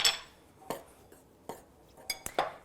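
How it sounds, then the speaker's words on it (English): Quick stir of flour, baking powder and salt in a mixing bowl, a few light scattered clinks and scrapes of a utensil against the bowl, close and fairly faint. "We're going to add our baking powder, a little bit of salt, give that a quick stir."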